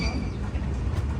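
Intercity Express sleeper-class train pulling into Bhildi junction: a steady, close, loud rumble of wheels and carriage noise throughout, with faint voices mixed in.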